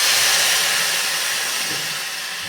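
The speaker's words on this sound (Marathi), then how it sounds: "आता हे दूध आपल्याला डायरेक्ट या खारकेच्या पुढेत घालायचं आहे" A loud rushing hiss as hot milk is poured into ghee-roasted dry date powder, steady and sizzling, slowly fading over a couple of seconds.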